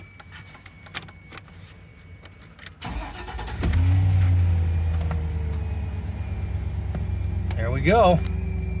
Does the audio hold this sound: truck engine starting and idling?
yes